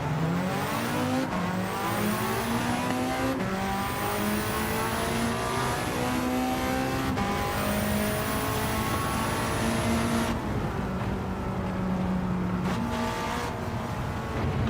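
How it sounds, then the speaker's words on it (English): BMW car engine in the racing video game Gran Turismo 7, revving steadily through repeated gear changes with rising whines and brief tire squeal, loud and continuous throughout. "The BMW sounds really nice"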